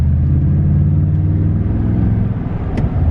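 Deep, burbling exhaust from a Toyota Tundra pickup's 4.6-litre V8 idling steadily up close, a low throaty rumble with a slight rise in tone near the end.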